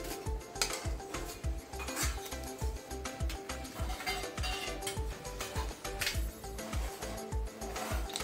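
Black cardamom frying in oil in a pan is stirred constantly, with a utensil scraping and knocking against the metal in a quick, even rhythm over a low sizzle, close and continuous.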